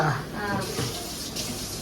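Water runs steadily from a tap into a bowl of chapati dough being mixed for momos, a continuous close splashing hiss in a home kitchen.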